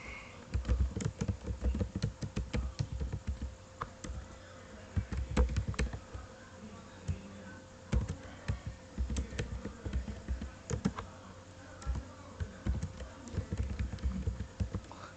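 Someone types on a computer keyboard, tapping out irregular bursts of clicks with short pauses between them. The keys sound close and clear in a quiet room, and nobody speaks.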